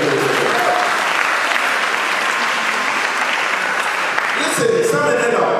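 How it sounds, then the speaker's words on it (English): Guests at a Church of Pentecost wedding in the UK break into loud, sustained applause that fills the hall, with a voice faintly audible beneath the clapping. "They deserve an applause."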